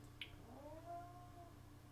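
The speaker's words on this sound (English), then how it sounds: "there's a cat fighting something back there" A cat fighting something somewhere in the background lets out a drawn-out, wavering yowl, faint and distant beneath a steady low hum, with a brief sharp click near the start.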